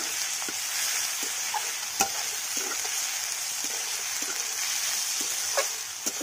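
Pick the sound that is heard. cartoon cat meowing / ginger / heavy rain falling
ginger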